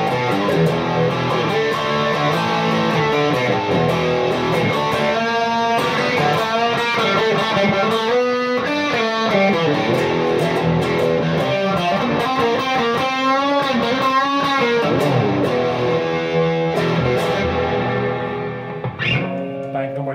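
An electric guitar played through a T-Rex Magnus pedal on its reverb and overdrive bank rings out in driven, sustained chords and melodic lines with a spacious reverb tail, loud and alone, fading near the end.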